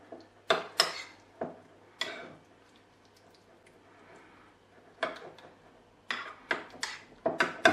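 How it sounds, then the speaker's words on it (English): Spoon stirring a mustard sauce with whole grain mustard in a bowl, sharp clinking taps against the side coming in irregular clusters with short pauses, close and fairly crisp. "So give that a good mix."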